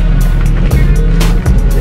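A Subaru BRZ engine revs loudly in short bursts, its deep exhaust rumble rising and falling close by.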